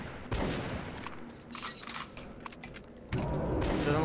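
Gunshots ring out in Metro 2033 Redux, a loud burst at the start and another near the end, with quieter clattering and mechanical sounds between them and no voices.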